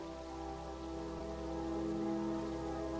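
Continuous rainfall in Terraria, gentle hissing patter over a low, sustained musical drone, steady and moderately quiet from start to finish.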